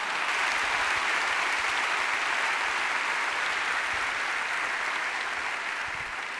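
Congregation applause during a church sermon: a broad, continuous wash of many hands clapping, steady and full throughout, heard from within a large crowd with no break for over six seconds.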